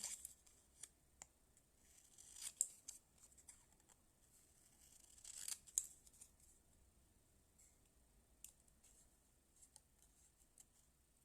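Scissors snipping a paper template for a small gingerbread box: faint, sparse close cuts and paper rustles with quiet gaps, a couple of louder snips among them.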